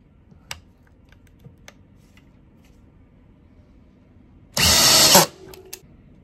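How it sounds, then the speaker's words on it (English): A few faint taps, then a short loud burst of a brushed-motor drill driving a construction screw for under a second, ending abruptly. "So I have some construction screws right here, and we're gonna put one in each drill"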